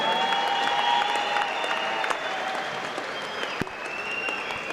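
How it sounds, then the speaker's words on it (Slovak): Arena crowd applauding a retiring boxing referee before his last bout at a Thai boxing fight night, steady broad clapping throughout with a faint tonal hum beneath and one sharp knock near the end. "Prosím potlesk pro Jiřího Kubaláka"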